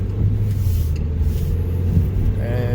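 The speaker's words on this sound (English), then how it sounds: "So we've got it out for its test drive now." A car out on a road test drive after shop work, with a steady low engine and road rumble heard from inside the cabin and no other distinct sounds.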